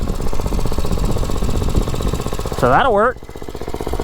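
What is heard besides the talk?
gas mini bike engine running on diesel fuel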